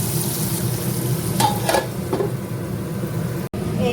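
Onions fry in a pan for a crab curry cooked with goat fat, giving a steady close sizzle with a few scraping stirs of a spatula partway through and a brief dropout near the end.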